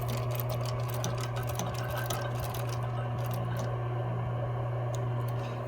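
A sewing machine runs steadily while stitching a medical mask cover. Its motor makes a close, continuous whirring hum that stays even for the whole stretch, with no talking.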